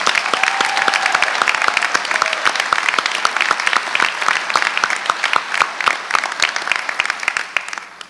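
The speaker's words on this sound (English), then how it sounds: "help me give them a round of applause" An audience at a Doctor of Physical Therapy hooding and pinning graduation ceremony claps steadily for about eight seconds, a dense, even patter of many hands that fades slightly toward the end.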